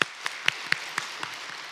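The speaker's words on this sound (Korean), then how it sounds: "함께 영광의 박수 부르시겠습니다." A church congregation claps together during a Sunday worship service, sharp evenly spaced unison claps in a steady rhythm, about seven in under two seconds, fading slightly toward the end.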